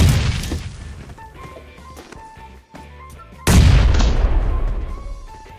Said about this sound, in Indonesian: Eh, granat.